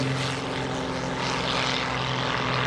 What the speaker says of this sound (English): He's on the takeoff roll.